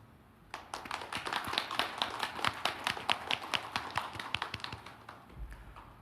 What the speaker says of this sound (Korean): 위로와 격려의 큰 박수를 한번 보내주십시오